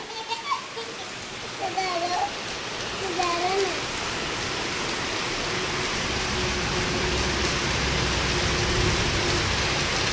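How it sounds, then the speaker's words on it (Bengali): Steady rain falls outside a home, a broad hiss that swells louder after the first few seconds, with a voice and an adult talking over it early on. "ওই দেখো কত বৃষ্টি হচ্ছে"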